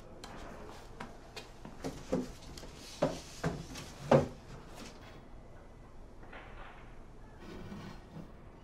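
Door being jammed shut in the video game Erica: a series of quiet wooden knocks and scraping thuds, building to a sharper bang around the middle, then settling into low room ambience.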